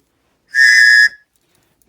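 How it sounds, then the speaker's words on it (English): One short, piercing blast on a survival whistle sounds loud and close, then stops abruptly, leaving silence. "it also comes, courtesy of Tops Knives, with a whistle."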